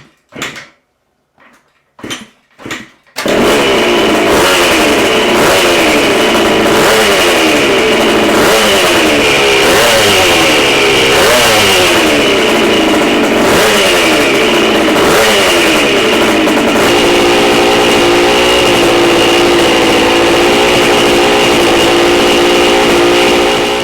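A few sharp clicks and knocks, then a 1978 Honda CR125 two-stroke dirt bike engine with a 32mm carburetor starts and revs repeatedly in quick, crisp bursts, loud and close, settling into a steady high buzz.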